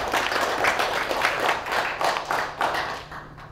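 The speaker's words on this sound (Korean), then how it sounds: "우리 이채진 박사님께 다시 한번 큰 박수 부탁드립니다." Sustained applause from a lecture audience after a political science talk, dense steady clapping from many hands that holds throughout and eases slightly at the end.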